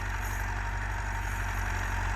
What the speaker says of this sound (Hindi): अब खेल बिल्कुल सीधी 385 ट्रैक्टर है, उसके पीछे प्लांटर डाला हुआ है